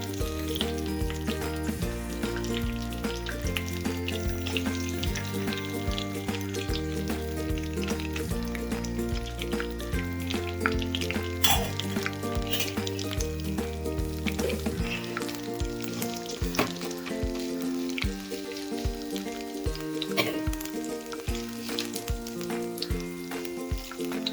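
Mustard seeds splutter in hot oil in a pan, a steady sizzle and crackle with scattered sharp pops, while music plays loudly in the background.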